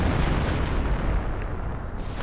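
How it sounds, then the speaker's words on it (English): Artillery fire in a Wargame strategy video game, a dense, continuous rumbling barrage of overlapping booms, loud and steady with no voices. "And artillery down on the the pack."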